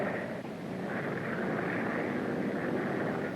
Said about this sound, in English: Yes, I can see him coming now, Mr. McAllan's aeroplane